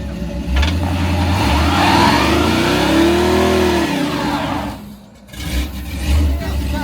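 A Chevrolet C10 truck engine revs hard to spin one tire at an LS Fest event, its loud rising-and-falling whine sweeping up and back down over about four seconds, then briefly dropping off before rumbling again close by.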